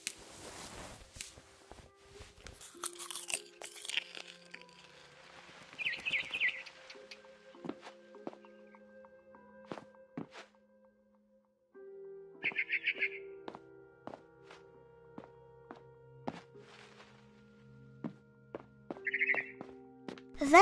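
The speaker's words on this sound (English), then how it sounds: "Then I heard chirping outside my window." A barn swallow in the video game What Remains of Edith Finch gives a few short chirp bursts between scattered thumps, taps and game ambience, with long quiet gaps.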